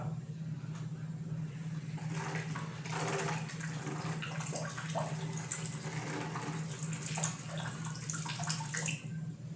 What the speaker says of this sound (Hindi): मैं एक पाइप से फूंक रहा हूं, दोनों अलग अलग पाइप है, और ये दूसरे पाइप से पानी निकल रहा है